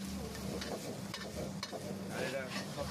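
Garlic and vegetables sautéing in a pan for a continental chicken steak, with a soft sizzle and faint stirring scrapes, fairly quiet and close; no talk.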